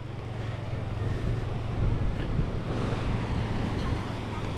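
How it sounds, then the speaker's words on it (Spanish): Waves break on the beach at Playa del Carmen under steady wind buffeting the microphone, a continuous wash of surf and gusty rumble at moderate level. "la playa sí tiene un poco de oleaje"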